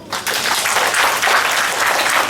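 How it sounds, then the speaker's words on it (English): An audience at a school declamation competition applauds after a speech, a steady patter of many hands clapping close and loud, with no talk. "Let's give her a round of applause."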